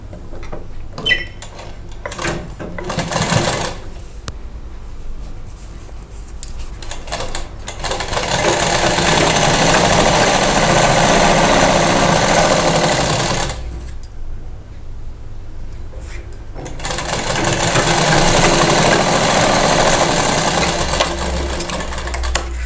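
A sewing machine stitches a blouse, with quick bursts of rapid rhythmic chatter and two long sustained runs separated by pauses of clicks and fabric handling, close and loud.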